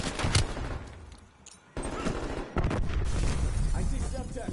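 A flashbang grenade detonates in the Call of Duty Cold War video game, a loud close blast followed by sustained rumbling, crackling combat noise and further heavy bursts.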